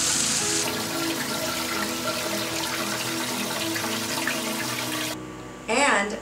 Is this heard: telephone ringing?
no